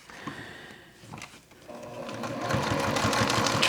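A sewing machine stitches a welt zipper pocket on a bag. Its fast, close mechanical whirr speeds up and grows louder across the few seconds, with a brief slowdown partway through.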